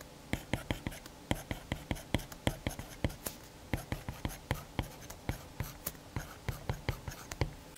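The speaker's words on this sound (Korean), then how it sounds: "일단 필기 소리 들어볼까요?" Apple Pencil with its standard tip writing on a paper-texture screen protector film, a steady run of crisp scratchy strokes and taps repeating quickly and evenly at close range, with no talking.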